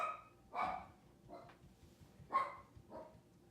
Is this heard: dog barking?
yes